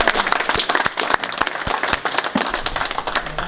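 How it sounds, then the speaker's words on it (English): An audience at a monthly meeting gives a round of applause, dense steady clapping from many hands throughout, fairly close and sustained. "I think we ought to give Ken a round of applause"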